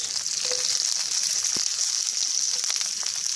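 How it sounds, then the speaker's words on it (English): Peas and onions searing in hot oil in a pan for a chicken and bok choy stir fry, a loud, steady close sizzle with a few faint clinks and no talk. "we're gonna sear these peas,"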